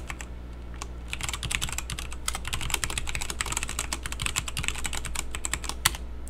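Steady, fast typing on a computer keyboard while configuring Neovim, with dense, close clicking keystrokes running continuously over a low background hum.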